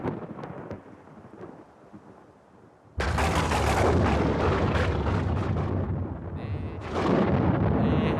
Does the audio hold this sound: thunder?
yes